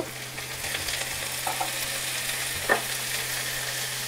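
Potatoes frying with chopped onion and chili in a pan for aloo kachori filling, a close, even sizzle with a few scraping stirs and one sharp clack near the end.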